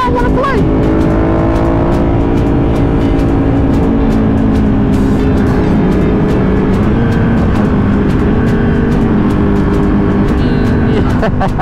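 A BMW M3 races against a Ducati 1199 Panigale motorcycle, loud engines droning and revving with shifting pitch, heavy wind rush and sharp transients throughout, the vehicles close by.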